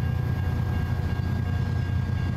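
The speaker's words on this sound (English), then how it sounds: "sometimes it's a huge train of just one type of car" A long freight train made up of a single type of car rumbles past in American Truck Simulator, a steady low rolling drone held at an even level throughout.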